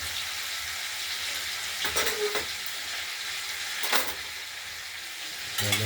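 Potato pieces fry in turmeric-coloured oil with a steady close sizzle, broken by a few scraping stirs of a spatula against the pan, no talk.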